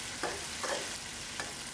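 Mapo tofu frying in a pan and being stirred, a quiet steady hiss with a few soft scraping strokes of the utensil, brief and close.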